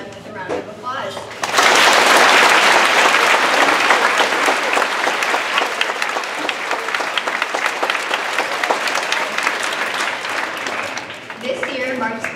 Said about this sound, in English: Let us welcome them with a round of applause.